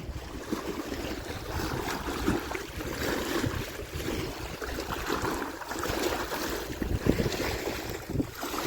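Wind-driven waves lapping on open reservoir water at Gadhki dam, a steady broadband wash with gusty wind buffeting the microphone and occasional louder slaps, continuous and fairly close, with no voices.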